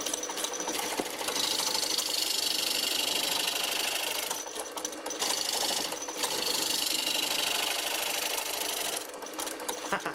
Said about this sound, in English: try finishing the inside with some hand scraping